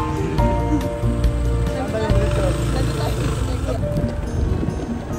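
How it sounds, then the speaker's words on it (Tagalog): Steady rain falls outdoors, a soft continuous patter that stays fairly even, with other noise mixed in and a voice speaking over it. "Ayan, ulan po guys."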